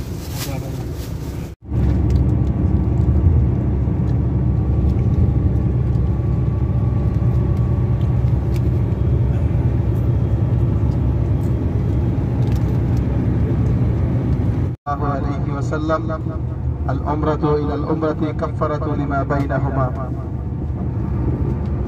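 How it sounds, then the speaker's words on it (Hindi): Car pulling away on the road, steady low engine and road rumble filling the cabin throughout, cut briefly by two sharp breaks, with the last stretch carrying more clatter and higher noise. "अब गाड़ी चल दी है"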